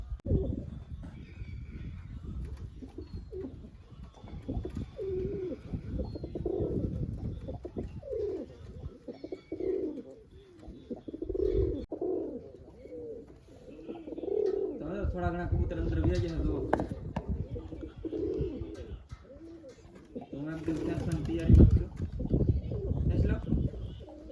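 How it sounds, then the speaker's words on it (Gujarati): Pigeons coo in a farm field while a pigeon trap is being set, with soft repeated cooing mixed into steady rustling and close background noise, and people talking throughout. "તો કબૂતર આવી ગયા"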